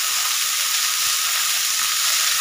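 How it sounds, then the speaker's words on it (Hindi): Green chilies, ginger and coriander leaves sauté briefly in hot oil in a pan, giving a steady, close, bright sizzle throughout with no voices. "बस कुछ सेकंड के लिए हम इसे भूनेंगे, हमें इसे पकाना नहीं है, बस तेल की जो कोटिंग है वो इसके ऊपर चढ़ जाए।"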